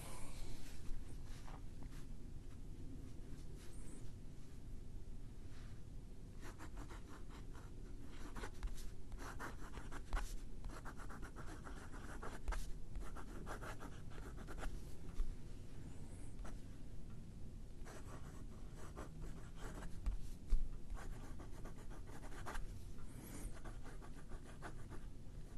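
A Pilot Custom Heritage 92 fountain pen writes on paper, its nib giving a faint, steady scratching with short strokes and pauses, close up against a soft background hiss.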